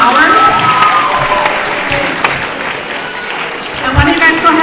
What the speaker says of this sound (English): let's get a round of applause for the 20 or more hours